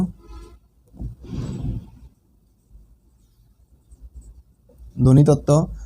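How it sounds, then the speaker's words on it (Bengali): A pen scratches across paper in short, close strokes, writing a word by hand, with brief pauses between bursts, and a voice speaks near the end. "আমি লিখে দিচ্ছি ধ্বনিতত্ত্ব"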